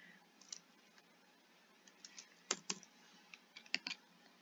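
Code being typed on a computer keyboard: a scatter of quiet, irregular key clicks with a few sharper taps, close and alone with no talk.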